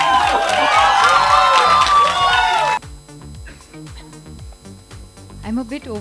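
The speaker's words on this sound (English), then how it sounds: "The enigmatic Sanjay Leela Bhansali, round of applause, ladies and gentlemen." A crowd at the Bajirao Mastani trailer launch cheers Sanjay Leela Bhansali with loud shouts, whoops and shrill cries for nearly three seconds, then cuts abruptly to a much quieter room with scattered voices.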